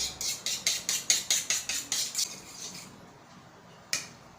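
Whisking an egg with vanilla in a bowl: about a dozen quick, evenly spaced clinks of a utensil against the bowl, then a pause and one final sharp tap, close and clear with no talking.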